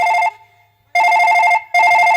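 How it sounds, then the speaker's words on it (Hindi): A telephone rings late at night, sounding as loud, clear electronic ring bursts: one short burst, a pause, then two longer bursts in close succession, with no talk. "इतनी रात को फोन आया"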